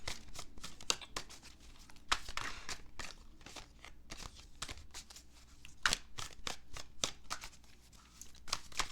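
Tarot cards are shuffled steadily and softly, a quiet run of papery riffles and flicks with crisp snaps. The sound is close by and continues throughout, with no voices.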